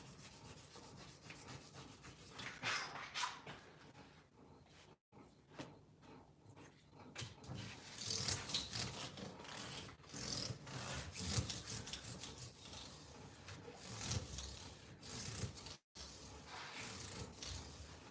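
Hand sanding of new guitar frets on a freshly fretted neck with 8000 grit micro mesh sandpaper: continuous soft back-and-forth rubbing strokes, close and fairly quiet, with no talking.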